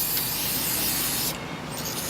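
A continuous loud hiss of an aerosol spray of penetrating lubricant, briefly easing near the end before resuming, with no talking.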